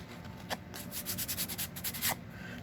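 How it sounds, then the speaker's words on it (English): Sandpaper rubbed over shiny advertisement paper from the mail, a close, soft scratchy rasping in quick back-and-forth strokes with a few sharper crinkly swipes. "It's shiny, but I will sandpaper the outside of it"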